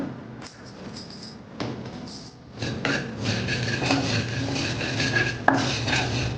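Two spoonfuls of poppy seeds roasting in a kadai over low heat, with a spoon scraping and clinking against the metal pan in irregular strokes, fairly close and moderately loud, without talk.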